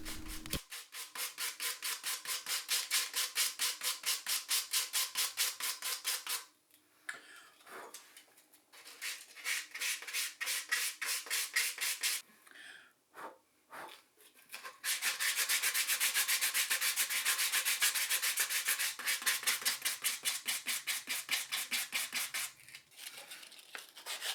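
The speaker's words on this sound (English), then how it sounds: "And then it's on to some painful hand sanding end grain." Hand sanding the end grain of a wooden LP-style guitar body built from scratch: rapid, rhythmic back-and-forth rasping strokes in several long runs, separated by brief pauses and a few knocks, close and clear with no speech.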